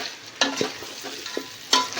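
Mutton sizzling quietly in a pan, with a few sharp clinks of a spoon stirring against the metal.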